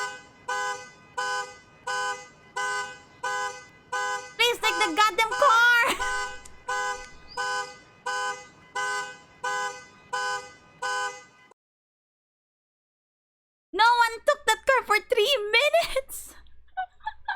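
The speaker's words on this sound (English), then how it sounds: "take that fucking alarm" A car alarm outside sounds a steady run of repeating electronic tones, then a person shouts over it; after a short silence the yelling picks up again.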